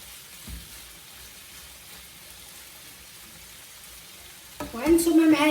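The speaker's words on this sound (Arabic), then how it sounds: "وغادي نصوطيوهم يتصوطاو شويه هكا" Vegetables hit a hot pan for seafood paella with a sudden, loud sizzle near the end, after a long stretch of quiet kitchen room noise with a single soft knock early on.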